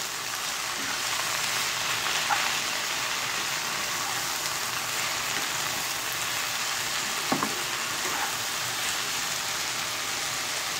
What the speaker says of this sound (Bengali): এখন ভালোভাবে এটাকে নেড়ে চেড়ে নিতে হবে